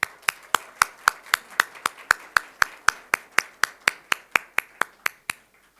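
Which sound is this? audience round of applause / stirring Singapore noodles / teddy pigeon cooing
audience round of applause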